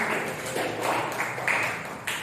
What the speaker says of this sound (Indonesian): Silakan kasih aplaus, tepuk tangan.